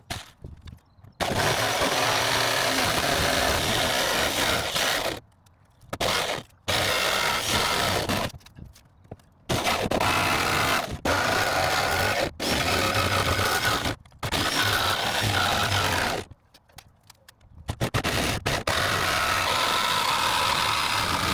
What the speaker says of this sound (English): holes drilled out